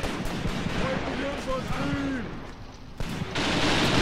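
Troops firing in the WWII tactics game Graviteam Tactics: Mius-Front, with sharp gunshot cracks scattered at distance under a battlefield wash, plus a louder burst near the end.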